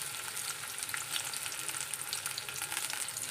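Tomato and curry leaves frying in hot oil with onion, a steady close crackling sizzle that holds evenly throughout with no voices.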